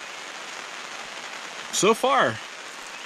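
Steady rain patters on a rooftop tent and awning, a soft constant hiss throughout, with someone briefly speaking over it near the end.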